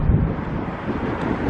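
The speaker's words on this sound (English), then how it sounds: "It's getting very breezy today." Wind buffets the microphone in low, rumbling gusts outdoors at a Las Vegas stadium construction site, loud and uneven, with no voices present.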